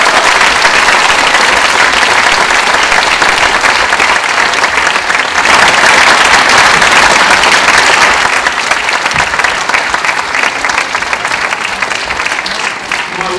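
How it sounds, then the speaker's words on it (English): Audience applause closing an evening talk on plastic, loud sustained clapping from a large crowd that lasts throughout and thins slightly toward the end. "Another round of applause."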